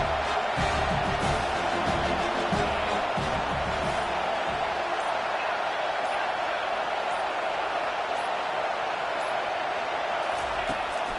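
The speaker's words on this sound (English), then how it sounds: "Third down, and this crowd is tearing the lid off this place." A large stadium crowd roars steadily at a college football game, a dense, loud wall of cheering that holds without a break from start to finish.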